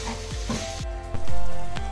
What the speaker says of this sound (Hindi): तकरीबन 3 चम्मच मक्खन डाला, और उसके बाद में मिर्ची हरी